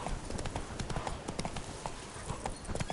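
Hoofbeats of Roach, the horse in The Witcher 3: Blood and Wine, a steady rhythmic clip-clop close by and fairly loud over faint game ambience.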